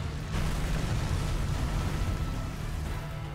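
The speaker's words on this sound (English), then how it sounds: "When he's in rage mode and he's got his fire armor on, he unleashes that supernova really quick" Teostra's supernova explosion in the video game Monster Hunter World, a loud sustained roaring blast with broadband rumble and no speech over it.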